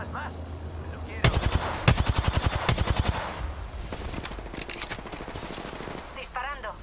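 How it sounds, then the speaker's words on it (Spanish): Rapid automatic gunfire in Apex Legends bursts in loud and close, a fast rhythmic string of shots that thins into scattered firing under a steady game din, with brief voice chatter near the end. "Disparando."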